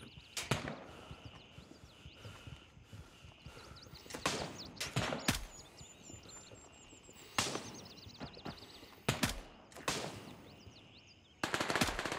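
Gunfire in the military shooter Gray Zone Warfare: several sharp bursts of automatic fire spread across the stretch, some close and loud, others more distant, with quieter ambient game noise between the volleys.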